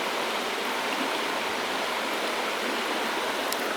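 Gentilly river flowing at a campsite in a regional park: a steady, continuous rush of water with no breaks, even and fairly loud throughout.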